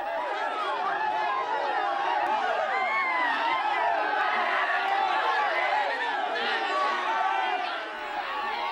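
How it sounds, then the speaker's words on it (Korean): A crowd shouts and whoops during a tug-of-war over a funeral bier at a traditional Korean procession, dense overlapping voices cheering close and loud throughout. "두 편으로 나뉘어 이기는 쪽은 환호성을 지르기도 합니다."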